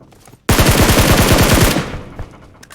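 Rapid automatic gunfire from the mobile battle royale game PUBG Mobile, a loud sustained burst of evenly spaced shots that cuts off and fades into a brief echo.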